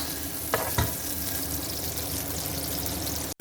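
Onions frying in oil for a sauté of peas and vegetables, a dense continuous sizzle with a couple of brief stirring knocks near the start, close and steady.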